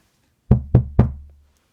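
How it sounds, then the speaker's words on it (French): Three sharp knocks on a door land in quick succession, each a hard, hollow rap with a short ringing decay, loud and close in an otherwise quiet room. "Impossible à Babouchka de ne pas entendre ses coups frapper à la porte"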